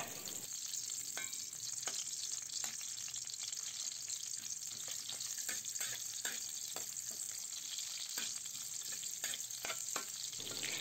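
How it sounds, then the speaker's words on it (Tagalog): Sliced onion and garlic sizzle steadily in hot oil in a pan, with occasional stirring clatters over a constant frying hiss. "Painitin lang natin ang mantika at ilagay na natin ang hiniwang sibuyas at bawang."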